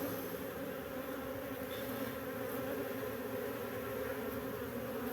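Honeybees swarm in and out of a beehive, a dense continuous buzzing drone that stays steady and close with no voices over it.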